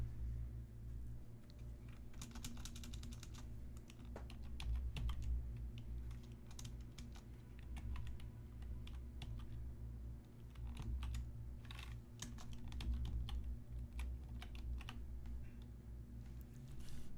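Typing on a computer keyboard, a continuous patter of quick, light key clicks in uneven bursts, faint and close, with no talking.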